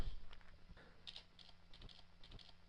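Keys clacking in irregular bursts as code is typed on a computer keyboard in Visual Studio, close and fairly quiet, with no talking.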